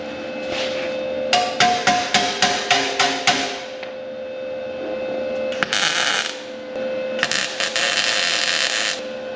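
A quick run of about nine sharp metallic hammer strikes on sheet metal rings out, followed by pauses and a few scattered heavier blows, close by, with a steady tone underneath.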